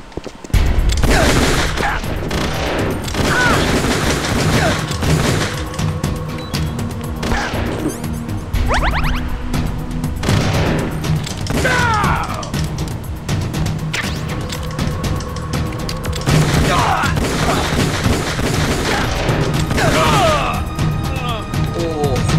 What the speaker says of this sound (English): Baku tembak.